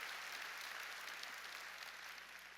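A church congregation claps during a Korean New Year's Eve worship service, a steady dense wash of applause from a large crowd that holds for the whole span and eases slightly toward the end.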